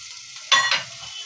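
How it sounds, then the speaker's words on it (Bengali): Chopped chilli and onion drop into hot oil with a sudden loud sizzle about halfway through, hissing strongly for a moment before settling into a softer crackle. "এদিকে আমার তেল গরম হয়ে গেছে, আমি লঙ্কা আর পেঁয়াজ কুচি করে রেখেছিলাম।"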